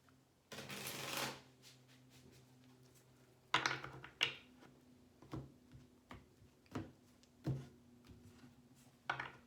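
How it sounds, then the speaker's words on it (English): Tarot deck being shuffled by hand during a card reading: a dense riffling burst near the start, then a series of separate soft card slaps and taps spaced about a second apart, close up and fairly quiet. "I want to give this deck one more shuffle."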